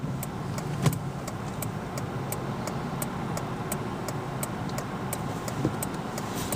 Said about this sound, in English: We're going to brake right now.